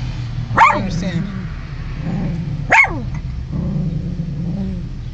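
A dog barks twice, sharp and close, about two seconds apart, over a low steady background hum.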